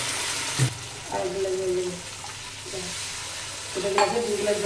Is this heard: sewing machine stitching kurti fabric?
no